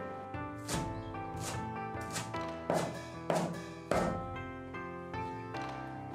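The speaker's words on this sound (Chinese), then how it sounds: "一把韭菜切碎" A bunch of chives is chopped with a kitchen knife on a board: sharp, separate knocks at an unhurried, slightly uneven pace over a steady background tone.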